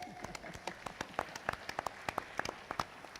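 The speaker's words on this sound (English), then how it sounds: "give a big applause to our speakers" Audience applause for panel speakers at a talk event, sparse individual claps scattered across the room, fairly quiet and distant, with no talking.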